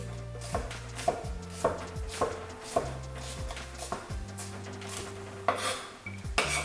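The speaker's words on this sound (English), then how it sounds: "not picking the knife up like this, but with a rocking motion, you're gonna cut all the way across" A kitchen knife rocks through an onion on a cutting board for a dice, giving a steady run of close, crisp chops roughly every half second with a low hum underneath and a louder clack near the end.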